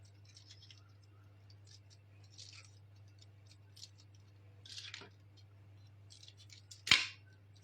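Scissors cutting through packaging while making chocolate crayons and laddu candles, giving faint, scattered snips with one sharper cut near the end, quiet under a low background hum.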